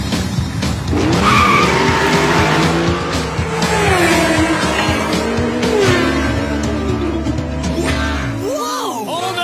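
Animated race cars with new speedy tires in a cartoon race, loud close engines roaring with long squealing skids and sliding tire whines, fading into a final squeal near the end, with a voice breaking in over the noise.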